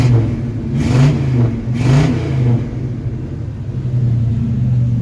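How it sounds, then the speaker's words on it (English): A 1987 GMC R1500 Sierra Classic pickup engine revs twice in quick succession, each throttle blip rising and falling over a steady low idle rumble, heard close and fairly loud with no talking. "let's give it some gas here."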